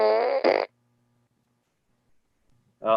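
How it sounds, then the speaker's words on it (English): A toy fart gun lets out a loud, buzzy, raspberry-like blast, then falls silent before a second short burst begins at the end. "I was going to ask about the fart gun. There's a fart gun."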